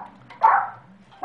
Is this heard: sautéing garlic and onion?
no